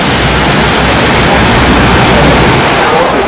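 A waterfall beside the Chicago River pours in a loud, dense, unbroken roar of falling water heard up close, a steady hiss with no variation.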